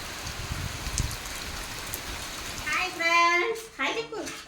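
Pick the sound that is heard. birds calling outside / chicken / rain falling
rain falling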